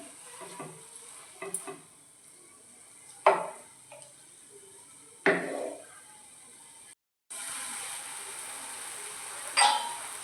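Banana modak filling being stirred in a pan, with a few scraping strokes and soft sizzling, spoon knocks against the metal at irregular intervals, no talking.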